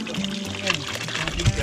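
Mountain spring water flows and trickles, a close splashing pour with bubbly irregular spatters, heard alongside faint voices.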